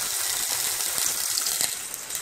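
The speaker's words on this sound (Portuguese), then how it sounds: "aqui eu já botei pra assar o hambúrguer. Ó, tá aqui assando." A hamburger patty roasting in a home kitchen gives a steady soft sizzle and crackle, faint and continuous with small pops throughout.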